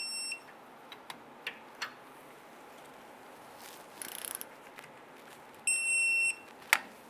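An electronic torque wrench beeps while caliper bolts are tightened to 11 foot-pounds on the rear brakes of a 2002-2008 Dodge Ram 1500. A high tone sounds at the start and a longer one near the end, with light tool clicks between.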